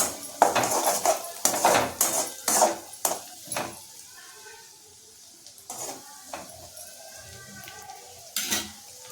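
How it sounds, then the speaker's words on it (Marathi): A spoon mixes coriander powder and other spices in a bowl, with a burst of sharp metallic clinks and scrapes, a quieter pause, then a few more scattered taps against the bowl. "धना पावडर घेतलेली आहे. आता हे छानपैकी मिक्स करून घ्यायचं."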